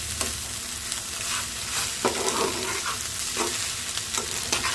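Egg bhurji frying in a pan as it is stirred, a steady close sizzle broken by several sharp scrapes and clatters of the spoon against the pan, with no talking.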